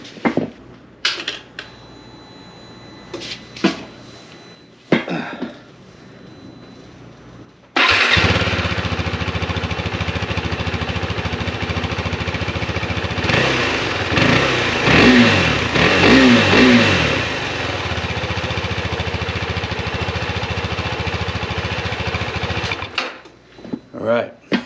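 A vehicle with a stock exhaust starts up and runs loud and close, its engine revving in several rising and falling surges before cutting off, with speech heard around it.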